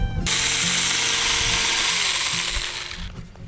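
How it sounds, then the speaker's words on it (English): A chainsaw cutting into a pumpkin, a loud close-up revving whine with a ragged mechanical rattle that runs for about three seconds and then cuts off abruptly. "I'm using a chainsaw."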